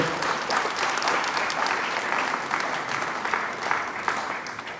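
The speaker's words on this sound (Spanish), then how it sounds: "Aleluya, por ese aplauso." A church congregation applauds steadily throughout, a dense, sustained wash of many hands clapping at even loudness with no speech.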